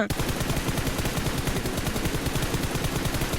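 Rapid automatic gunfire from the PUBG battle royale game, a dense, continuous burst of shots fired in quick succession, loud and close, with no talking.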